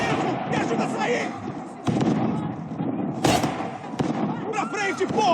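Rapid gunfire from a Max Payne 3 firefight, dense bursts and sharp cracks mixed with game noise and a voice talking over the shooting.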